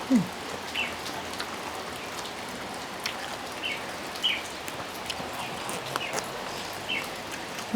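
Steady rain falling on a rainy evening, a constant soft patter with scattered louder drips and a few faint bird chirps in the background.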